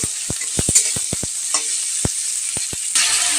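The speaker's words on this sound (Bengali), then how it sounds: "কড়াতে দেখো গোটা গরম মশলা ঘি দিয়ে ক্যাপসিকাম আর একটু টমেটো দিয়ে ভেজে নিয়েছি" Capsicum and a little tomato frying in ghee with whole garam masala in a kadai, a steady sizzle broken by sharp clinks and scrapes of stirring, close and alone.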